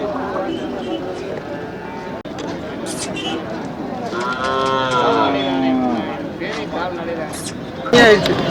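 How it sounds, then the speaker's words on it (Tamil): Cattle low repeatedly at the busy Manapparai cattle market, with drawn-out moos rising over a steady crowd murmur, people chattering and faint hoof clatter in the background. "இது வண்டி மாடு."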